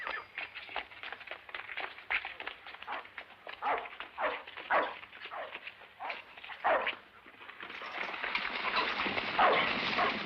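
A dog barks and whimpers in an Old West film scene, an irregular string of close yips and whines that rises into louder, strained whimpering toward the end.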